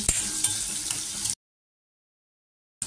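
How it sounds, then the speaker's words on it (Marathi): Cauliflower florets sautéing in hot oil for pulao give a steady close sizzle with a few stirring scrapes, then the sound cuts out to silence before briefly resuming at the end. "आता फ्लावर 1-2 मिनिटं मी परतून घेतलेली आहे"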